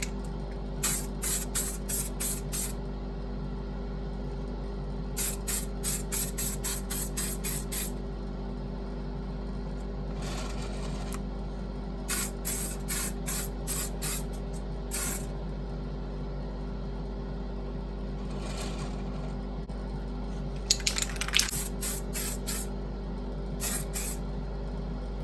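Short repeated bursts of spray paint hissing inside a DIY spray booth, over a steady low hum and rush of the extraction fan running throughout, the bursts coming in clustered, rhythmic pulses.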